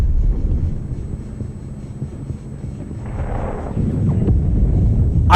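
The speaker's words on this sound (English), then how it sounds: "I did just get strafed by an airplane." An airplane makes a strafing run in a video game: a steady low roar and rumble, a noisy burst midway, then a sharp loud crack right at the end.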